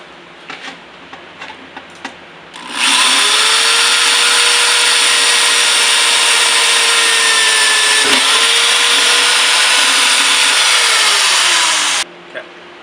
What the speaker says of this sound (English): Now I'm going to drill into my metal with this drill bit.